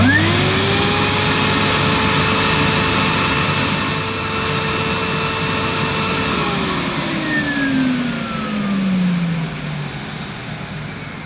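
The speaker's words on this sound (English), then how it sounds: "Now let's see what this Henry turbo has in way of suction." Henry Turbo HVR 200T-2 vacuum cleaner running at full suction, a loud, steady motor whine whose pitch holds and then drops partway through as the load changes, heard alone.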